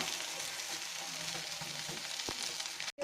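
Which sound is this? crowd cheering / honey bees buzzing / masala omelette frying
masala omelette frying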